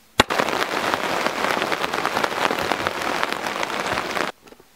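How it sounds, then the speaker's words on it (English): Heavy rain pounds down at night on a campsite along a hiking trail, a dense, steady roar of drops that fills nearly five seconds at close range, then cuts off abruptly near the end. "I did, however, get woken up in the middle of the night by this crazy ass rain."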